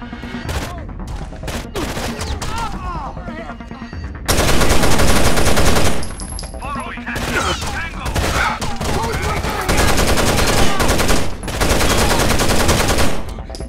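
Loud automatic gunfire in Rainbow Six: Vegas 2 rattles in repeated dense bursts and fusillades, close and dominant, with short gaps between volleys and a few brief voice lines.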